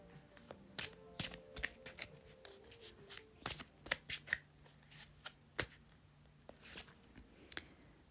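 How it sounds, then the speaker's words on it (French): Tarot cards are shuffled by hand up close, giving a quick irregular run of crisp flicks, slaps and riffles in a quiet room with no talk. "On va tirer d'autres cartes."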